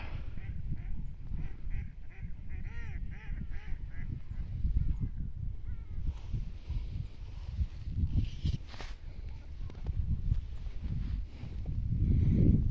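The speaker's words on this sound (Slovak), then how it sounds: "Kačičke." Startled ducks quack in a muddy outdoor spot near construction, a cluster of nasal calls early on over steady rustling and low rumbling background noise.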